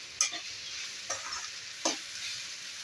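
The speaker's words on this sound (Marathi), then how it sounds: "असं पूर्ण फ्राय तेलामध्ये झाली पाहिजे" Okra and onion fry in oil with a soft, low sizzle, while a spatula scrapes the pan in three distinct strokes about a second apart.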